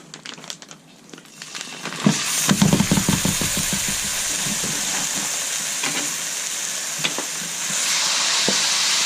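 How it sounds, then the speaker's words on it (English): Ground beef for picadillo drops into a hot skillet and bursts into a loud, crackling sizzle, with a few sharp spatters, then settles into a steady, close frying hiss. "we're going to go ahead and add the ground beef to our skillet"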